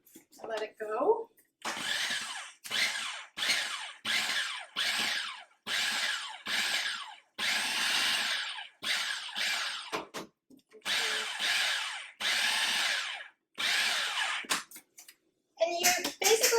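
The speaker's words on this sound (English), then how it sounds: "I'm going to stick this in the food processor and let it go." A food processor pulses lard for tourtière pastry dough in a series of loud, whirring motor bursts, each a second or so long and separated by short pauses, with a few brief gaps of quiet between them.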